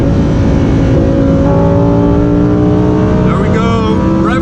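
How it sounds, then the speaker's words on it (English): A Lamborghini Huracan Performante engine revving hard to its rev limiter, heard from inside the car: a loud, sustained high-pitched wail with rising harmonics and a stuttering limiter bounce near the end, with a voice over it. "There we go, rev limiter."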